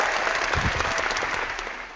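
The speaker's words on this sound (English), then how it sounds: "Round of applause for Richter." A short burst of audience applause at the close of a radio show, dense clapping that starts full and fades over about two seconds.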